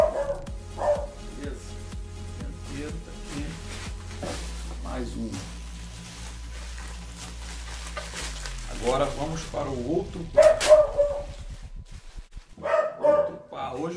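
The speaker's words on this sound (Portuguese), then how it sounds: "Hoje o cachorro deu pra latir" A dog barks a few times in the background while a person talks nearby during work on Shimano MT-200 hydraulic bike brakes, with faint mechanical handling sounds.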